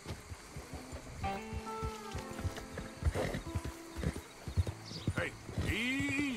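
Horse hooves clip-clop along with a whinny near the end, while people talk over the top; a horse in Red Dead Redemption 2.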